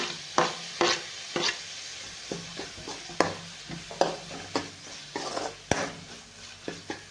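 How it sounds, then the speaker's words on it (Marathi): Chopped tomatoes frying in oil with fried chili and masala, a soft steady sizzle broken by repeated scraping clinks of a spoon stirring against the pan, close and fairly quiet. "आणि टोमॅटोला चांगला आपल्याला पूर्ण हे मऊ करून घ्यायचं आहे, बारीक एकदम तळून घ्यायचं आहे चांगला टोमॅटो"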